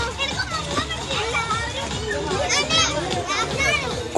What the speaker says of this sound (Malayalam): കുട്ടികൾ വെള്ളത്തിൽ കുളിച്ച് എൻജോയ് ചെയ്യുന്നുണ്ട്